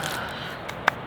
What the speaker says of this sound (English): That's the sound of ambient noise from the waterfall.